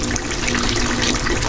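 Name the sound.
water running from a tap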